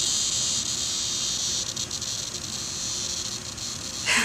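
Cicada buzzing, a loud continuous high-pitched droning whine close by, steady throughout with slight flutters in intensity.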